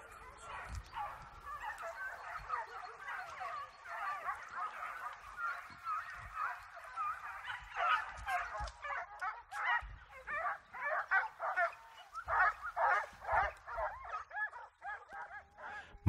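Hunting dogs bark and yelp in a busy, overlapping chorus during a wild boar hunt at Las Pilas, steady at first and growing louder and more rhythmic, at a moderate distance outdoors with a voice briefly audible.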